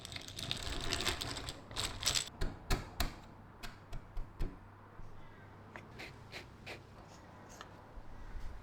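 Quiet workshop drilling and screwing on a homemade tea dispenser: a brief whirring burst, then a run of small sharp clicks and taps, faint and close, with no talk.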